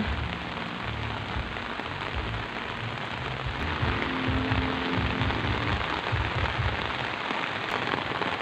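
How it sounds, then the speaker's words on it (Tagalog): Heavy rain pours down near rice fields in a dense, constant hiss with patters of drops on surfaces, steady and unbroken for the whole stretch. "halos hindi natila yung ulan"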